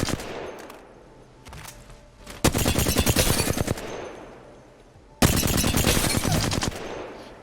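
Flatline rifle fire in Apex Legends: two sustained bursts of rapid automatic shots, loud and close, separated by a quieter stretch of ambient game sound.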